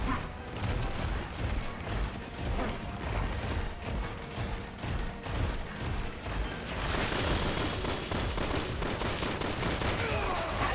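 Enemy gunfire in Resident Evil 6, a dense run of rapid shots and clattering impacts that grows louder and harsher in the second half, with mechanical rattles in between.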